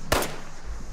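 A single loud, close gunshot in Fallout 76, a sharp crack followed by a short rumbling tail.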